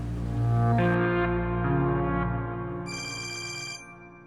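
A telephone rings steadily and fairly loudly indoors in a Pakistani family drama, an electronic ringtone with a repeating bright tone and no one speaking over it.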